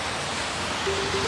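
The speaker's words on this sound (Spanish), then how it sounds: "se dejó venir el agua más fuerte" Heavy rain comes down during a city bike ride in Minnesota, a dense, steady roar of hissing water that fills the whole moment, close and loud.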